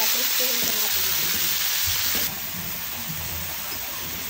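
Pork belly sizzles hard in a hot pan for chopsuey, a loud, continuous frying hiss that eases slightly partway through, with faint stirring underneath.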